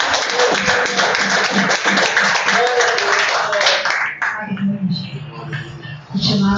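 A church congregation claps in praise during a missions service, with rhythmic clapping that is moderately loud and mixed with voices, then fades into scattered taps and murmuring.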